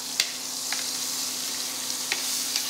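Herbs sizzle in hot fat in a pan beside a veal chop, a steady bright crackling hiss with a few sharper pops and spoon clicks, close and even throughout.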